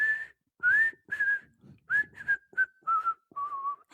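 A man whistles a tune while walking, with small flourishes added. The melody comes in clear, close phrases separated by short pauses, and no other sound is heard.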